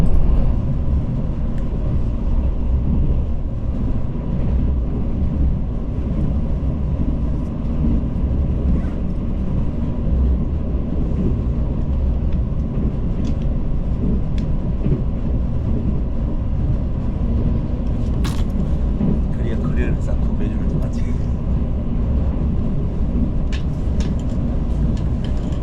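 A Mugunghwa passenger train runs on the Gyeongbu line at about 120 km/h, a loud, steady rumble with rolling wheel noise and occasional faint clicks throughout, heard from on board.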